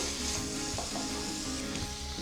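Onion chutney fries in a pan with a continuous soft sizzle, light stirring scrapes now and then, fairly quiet and without speech.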